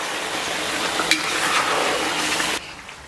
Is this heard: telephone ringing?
no